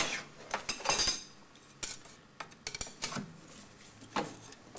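Sharp metallic taps of a steel drift against a glass engraving spindle on a copper-wheel engraving lathe, a handful of irregular close clinks spaced over a few seconds with quiet pauses between.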